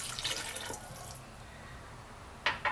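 Water, about 50 ml, is poured into a kitchen blender jar as a brief splashy stream that fades out, followed by two sharp drips near the end. Nobody speaks.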